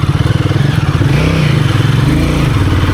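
A Royal Enfield Guerrilla 450 motorcycle engine is heard up close on a two-up ride, a loud continuous throbbing drone with the revs rising and falling under light throttle.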